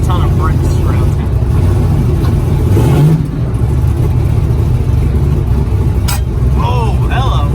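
A turbocharged Fox Body car pulls in on the street, its engine droning loud and close with a brief rising rev, while people talk over it throughout.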